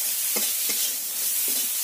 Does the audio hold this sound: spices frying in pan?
yes